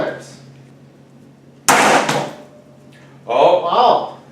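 A sharp strike shatters safety-filmed window glass and knocks the whole pane out of its sash: a loud broadband crash with brief rattling debris, followed by a second burst of clattering, while a low steady hum runs underneath.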